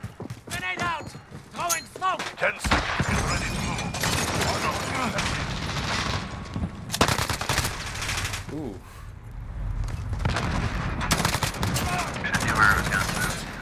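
Mini Uzi fire in Call of Duty Modern Warfare: rapid automatic bursts and shots crackle through a loud, busy game mix, with in-game voices and other effects around them.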